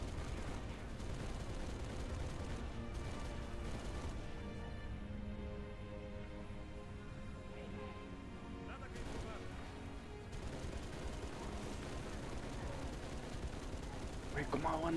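Gunfire from Halo Reach: bursts of sci-fi weapon fire and explosions crackle and boom over a busy game soundtrack, with sporadic heavier blasts throughout.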